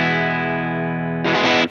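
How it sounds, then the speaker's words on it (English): Telecaster bridge pickup played through a Molly amp simulator with cabinets, light compression and reverb: a sustained ringing chord decays steadily, then a louder, brighter strummed chord cuts in near the end before stopping. "This is what it sounds like on the Tele bridge pickup."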